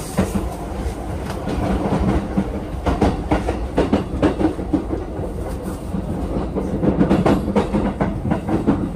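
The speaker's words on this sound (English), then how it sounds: "We're about to catch the train here in Tokyo." Train at a station in Tokyo, with a steady rolling rumble and repeated rhythmic clatter of wheels over rail joints, close and fairly loud throughout without speech.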